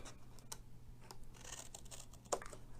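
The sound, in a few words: cutting paper for a card box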